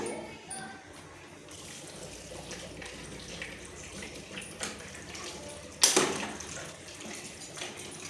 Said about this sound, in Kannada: ಇವಾಗ ಇದಕ್ಕೆ ನೀರು ಸೇರಿಸ್ಕೊಳ್ಳೋಣ